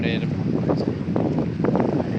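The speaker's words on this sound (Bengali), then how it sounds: "বাতাস, সেরকম বাতাস আসছে, জোয়ার আসতেছে।" Steady wind blowing across the seashore as the tide comes in, a continuous rushing gust noise close to the microphone with some voices mixed in underneath.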